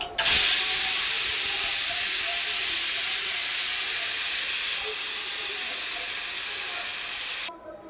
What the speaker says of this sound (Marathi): आता आपण गॅस बंद करू आणि वाफ काढून घेऊया